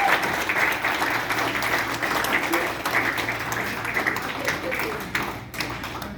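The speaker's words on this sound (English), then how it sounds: "Big round of applause." An audience at a Stanford PhD graduation celebration gives a sustained round of applause, dense clapping throughout with a few voices mixed in.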